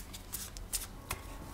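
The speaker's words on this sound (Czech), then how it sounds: "Míchám se tady už karty jak nahoře, tak dole." Tarot cards being shuffled by hand during a reading, with soft papery riffles and slides that come in several short bursts, close and fairly quiet, with no talking.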